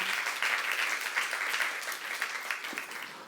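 A church youth congregation claps together through a worship sermon, dense steady applause filling the room, moderately loud with no talking over it.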